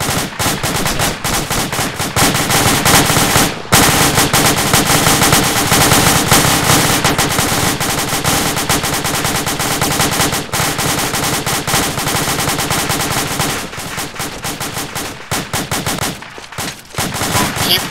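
Sustained, loud automatic gunfire from a military combat game: dense, rapid bursts from several weapons overlap almost without pause, with only a few brief gaps.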